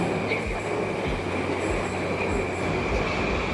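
A metro train pulls into a Tashkent Metro station with a continuous, steady rumble of wheels on rails, rhythmic clacks and a faint high squeal from the wheels.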